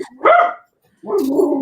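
A dog gives two short, loud barks close by, separated by a brief pause, with no talking.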